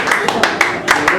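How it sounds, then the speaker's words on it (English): A comedy club audience doing a slow clap: about half a dozen distinct, evenly spaced hand claps in roughly a second, crisp and close, with a murmur of room noise between them. "It's a slow clap."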